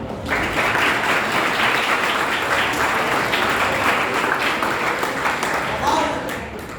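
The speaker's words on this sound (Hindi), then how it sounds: "वाह, ताली बजाइए।" Steady audience applause from children filling the room for several seconds, fading slightly at the end.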